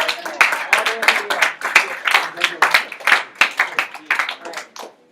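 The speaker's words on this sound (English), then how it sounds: "Let's clap them all the way up." A meeting audience claps in uneven bursts, many hands close by with quick rhythmic peaks that rise and fall, while voices call out over the clapping.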